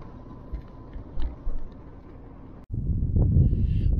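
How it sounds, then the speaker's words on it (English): Gusty wind buffets the microphone near Chimborazo volcano in Ecuador, a low rumbling roar that swells and turns loud midway through. "Sorry, it's a bit windy."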